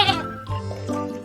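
Sheep bleating close by, a wavering nasal call that rises and falls over a second or so, heard alone without other sounds.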